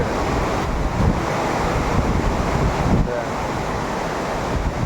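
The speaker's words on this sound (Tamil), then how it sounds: "தண்ணி எப்படி வெள்ளம் பிரவாகமாக போகிறதுன்னு பாருங்கள்." Floodwater surges through the Kallanai (Grand Anicut) dam, a loud, steady broadband roar of rushing water with wind buffeting the microphone and no break.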